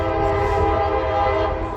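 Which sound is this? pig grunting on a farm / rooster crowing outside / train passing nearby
train passing nearby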